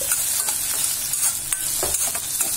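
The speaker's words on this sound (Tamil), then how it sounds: "நல்லா வதக்கணும்." Food sautés in a pan while lunch-box paruppu rice is being made, giving a loud, continuous sizzle. Intermittent scraping stirs sound close by, with no voices.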